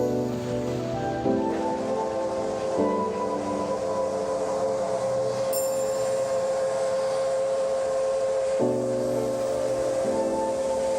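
A C2 steam locomotive runs on a mountain railway in China, a steady rumbling and hissing drone with shifting tones and a brief high squeal midway, continuous and fairly close.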